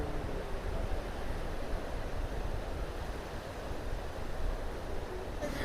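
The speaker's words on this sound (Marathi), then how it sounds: "समुद्राच्या लाटांचा आवाज नक्कीच येत असेल" Sea waves wash steadily onto Diveagar beach on the Konkan coast, a continuous broadband roar of surf with wind buffeting the microphone and no voices.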